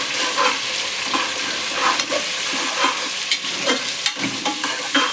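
Onions and green chillies frying in a pan for chicken biryani while a utensil stirs them, giving steady sizzling with scraping strokes throughout, close and moderately loud, no talk.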